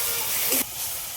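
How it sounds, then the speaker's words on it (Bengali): Ground spice paste hits hot oil with a sudden loud, close hiss that cuts off abruptly after about half a second, leaving a softer frying hiss behind. "এবার বাটা মশলাটা দিয়ে দিচ্ছি।"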